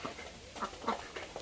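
Domestic ducks at a rural home quack in a few short, nasal bursts, moderately near and fairly soft against a dull background hum, with no talking.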